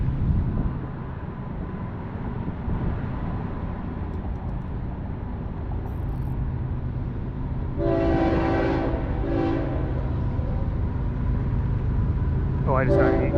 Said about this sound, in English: It sounds like a freight train though.